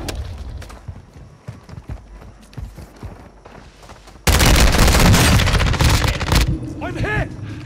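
Call of Duty MWII gunfire, a sudden burst of loud, dense automatic shooting that cuts in midway over earlier scattered footsteps and muffled sounds, with game voices under the shooting.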